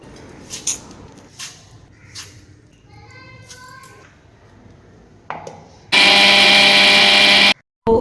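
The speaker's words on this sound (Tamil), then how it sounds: "கிரைண்டரில் போட்டு நல்லா அரைச்சி எடுத்துக்கலாம்." After some light handling clatter, a loud motorized grinder whirs steadily for about a second and a half while grinding soaked finger millet, then cuts off abruptly.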